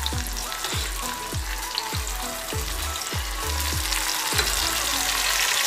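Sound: ginger garlic paste sizzling in frying pan

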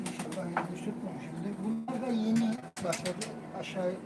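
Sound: pigeons cooing

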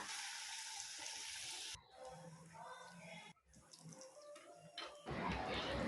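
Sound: lentil vadas (paruppu vadai) frying in hot oil

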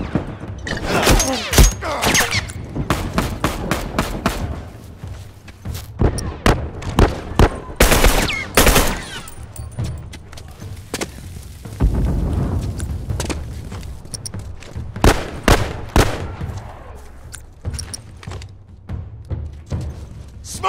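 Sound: turret gunfire from the video game The Last of Us

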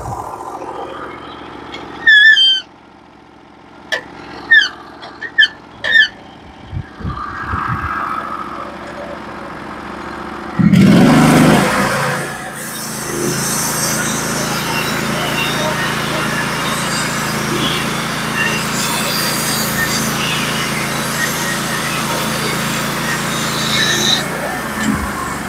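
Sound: Norwood HD36v2 sawmill cutting a cedar log

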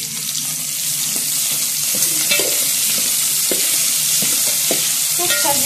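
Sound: onions frying with beef until golden brown

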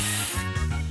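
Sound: spray sound effect in the video game Match Masters

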